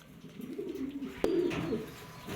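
A white racer pigeon gives a soft, low, rolling coo at close range, with one sharp tap midway, in a quiet setting.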